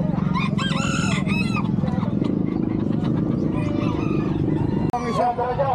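A Brahma rooster crows loudly at a poultry market, followed by clucking fowl, while a vendor keeps talking over the busy, close-up scene.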